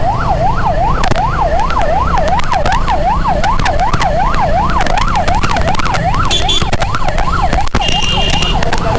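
An ambulance siren wails in a fast rising and falling pattern on a busy road near the Dortana bridge, loud and continuous over traffic rumble, with a few horn beeps near the end.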